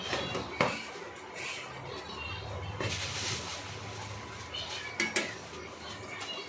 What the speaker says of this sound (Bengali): এরপরে পালং শাকটাকে এদিক ওদিক করে নাড়াচাড়া দিলাম।